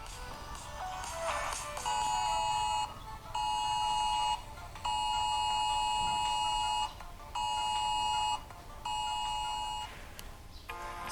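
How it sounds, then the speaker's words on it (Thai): Thai disaster-warning cell broadcast alert sounding on a phone during a test in Udon Thani province: loud, steady electronic tone bursts repeating about five times in a regular on-off rhythm, close by. "ระบบแจ้งเตือนภัยพิบัติ ที่จังหวัดอุดร"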